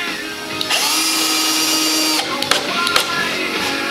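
A power drill drives drywall screws into a wooden firework display rack, loud whirring bursts that rise in pitch with brief pauses and sharp stops between screws.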